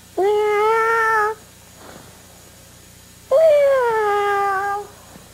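Two drawn-out, rising-then-falling meows separated by a short pause, close and loud with a clear tonal, harmonic quality, most likely a voice imitating a cat in a quiet room.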